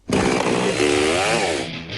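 A chainsaw engine revs up loudly and holds a steady high whine, rising in pitch before easing off near the end.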